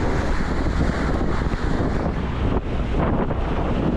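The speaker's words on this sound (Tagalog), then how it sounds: "Yan, habagat ng hangin." Strong habagat monsoon wind blowing across the open sea on a fishing boat, a loud continuous roaring rush with buffeting against the microphone and wash of waves beneath, steady throughout with no talking.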